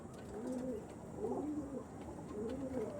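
Andhra pigeons kept for sale coo in soft, repeated low phrases, about three rounded calls in a steady rhythm over faint background noise.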